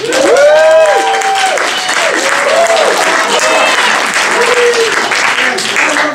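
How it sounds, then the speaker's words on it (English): A comedy improv show audience claps loudly and steadily for several seconds, dense applause with scattered cheers and voices mixed in. "Give yourselves a hand."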